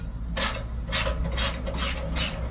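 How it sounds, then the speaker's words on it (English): A 12mm socket on a key wrench loosening the exhaust bolts of a Honda Transalp XL750, five quick rasping ratchet bursts in an uneven rhythm, close up, no talk. "with the 12mm socket and key wrench, we're gonna remove the bolts"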